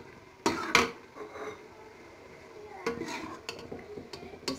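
Cooked white lobia dal is served into a dish, with a couple of sharp clinks of a spoon against cookware followed by softer scraping and tapping of utensils, close by, no talk.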